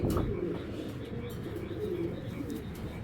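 Big racer pigeons coo close by, with soft, low throaty calls rolling continuously, and a few faint chirps over a quiet background.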